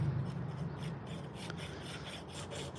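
An old piece of broken belt sander abrading a carved wooden spoon gives a steady, close rasping rub that runs continuously with no pauses.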